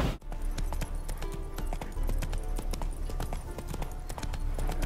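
Hooves of the horse Roach clip-clopping in the Witcher video game, a brisk, regular run of close hoof strikes continuing throughout, fairly loud with low rumbling ambience beneath and no clear voices.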